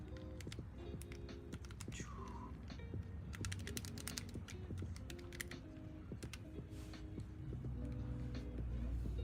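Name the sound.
typing numbers on a keyboard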